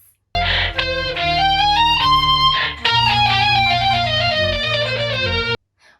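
A flute with a heavily processed, distorted and layered tone plays a melodic phrase with sustained notes and a low droning bed, loud and continuous.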